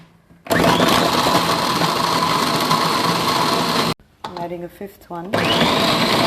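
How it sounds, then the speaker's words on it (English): An electric blender whirs loudly and steadily as it purées about four tomatoes for a Singapore chilli crab curry, stopping briefly while a person talks, then roaring on again. "I'm going to blend in about 4 tomatoes"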